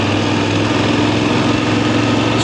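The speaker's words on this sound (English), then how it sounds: "Just trying to feel the throttle response compared to the throttle mod that I've normally used." A VOGE DSX 900 motorcycle engine runs steady and close in road mode, a constant buzzing drone with no clear blips or pauses.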